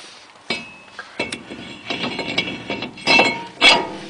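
Metal clinks and knocks as a brake rotor is slid onto the front hub of a 2008 Chevrolet Silverado, a few sharp close taps with brief scraping between them, no talk.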